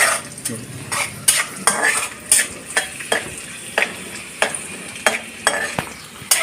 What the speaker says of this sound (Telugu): జీడిపప్పులు చక్కగా ఎర్రగా వేగేలాగా వేయించుకోండి